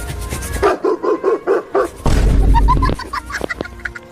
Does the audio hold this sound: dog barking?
yes